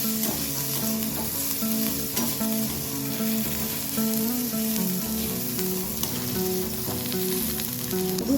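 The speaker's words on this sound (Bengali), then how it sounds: "রসুন পেঁয়াজটা খুব অল্পক্ষণ ধরে একটু ভেজে নেব" Chopped garlic and onion sizzle briefly with crab in a hot pan, a steady close frying hiss under tonal background music.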